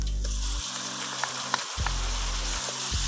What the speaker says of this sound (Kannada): ಈರುಳ್ಳಿ ಫ್ರೈ ಆಗಿದೆ. ಟೊಮೊಟೊ ಹಾಕ್ತಾ ಇದ್ದೀನಿ.